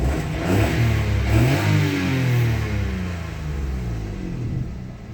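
A Peugeot 107 Urban's three-cylinder engine revs up and settles back, its uneven mid-pitched thrum carrying a slight vibration, steady and close with no talking.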